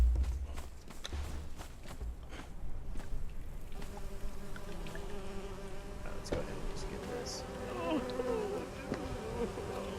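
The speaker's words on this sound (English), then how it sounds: "we're gonna have the bees just buzzing in our ear the whole entire time" Bees in Conan Exiles drone in a constant, close buzz that runs throughout, with footsteps and game noises mixed in as a player speaks briefly.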